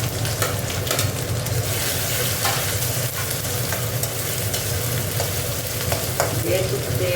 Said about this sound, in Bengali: এটা দিয়ে রসুন তেলটা দিয়ে এবার পেঁয়াজটা দিয়ে দেবো।